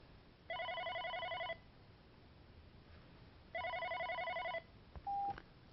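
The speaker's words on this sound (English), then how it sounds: "as I wait for the incoming call" An OpenStage desk phone rings for an incoming call: two separate electronic trilling bursts about three seconds apart, clear but moderately quiet, followed by a brief beep and a faint click.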